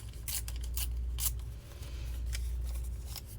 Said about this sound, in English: And maybe I will tear this edge